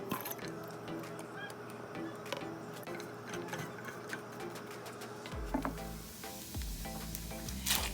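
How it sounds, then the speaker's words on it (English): Food for buffalo chicken pasta sizzles and crackles steadily in a hot frying pan, with occasional clinks and a low hum underneath. "We're gonna put this into the frying pan to saute for a little bit."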